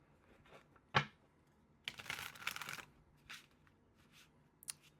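A tarot card deck being shuffled: a sharp snap followed by a dense burst of riffling card flutter, then a few softer scattered card clicks, quiet and close with no talking.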